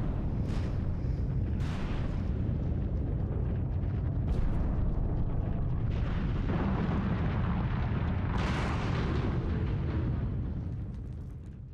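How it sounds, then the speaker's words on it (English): Explosive blasting in hard caliche rock during excavation for a stadium in Las Vegas: a continuous loud, rumbling roar with several sharper bursts layered on top, sustained across the clip before fading at the end. "There was only one answer: explosives."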